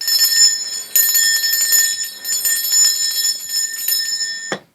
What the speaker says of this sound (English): let me just ring this bell. This is to cleanse the space around us.